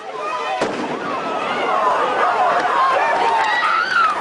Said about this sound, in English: Here comes the hand grenade.